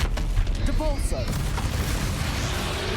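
Depulso spell blasts in Hogwarts Legacy land as heavy rumbling booms with a brief whistling streak, dense low thuds crowding the whole moment, loud and close.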